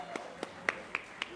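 Five evenly spaced, sharp claps ring out at an award ceremony during the 44th Milad anniversary event of FEB UMS, honouring an award recipient. They are quiet and slightly distant, in a steady slow rhythm over a faint background hum.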